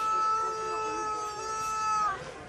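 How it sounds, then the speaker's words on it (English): A rubber chicken toy in a Halloween store lets out a single strained, wheezy squawk. The squawk is held steadily for about two seconds before it drops in pitch and trails off. "A rubber chicken?"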